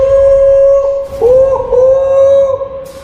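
A voice holds a long, steady, horn-like tone with slight pitch dips, mimicking a train horn, loud and close.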